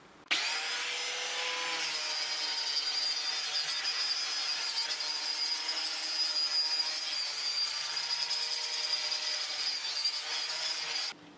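A power tool grinds rust off metal pieces for a crane trailer build, making a steady, loud abrasive whine that runs unbroken for about eleven seconds with no talk.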